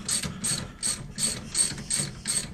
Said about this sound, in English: And then these ones get torqued down to